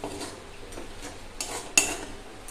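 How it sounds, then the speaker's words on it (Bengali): Garam masala powder being stirred briefly in a pan while making fish fingers, soft scraping and light clinks of a spoon on metal, a few quiet strokes with a sharper clink near the end, no talking. "গরম মশলার গুঁড়ো দিয়ে আমি এটা বেশিক্ষণ নাড়াচাড়া করব না।"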